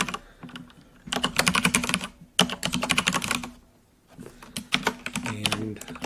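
Close, clicky computer keyboard typing in quick bursts, separated by short pauses, with a brief quieter stretch partway through.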